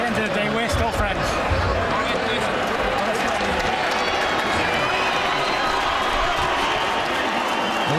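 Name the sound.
boxing arena crowd applauding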